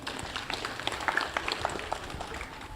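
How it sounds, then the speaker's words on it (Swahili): Scattered clapping from a modest crowd at a Catholic church self-help group's annual general meeting, light and uneven hand claps rising and tapering over a few seconds in a room. "Makofi kwake"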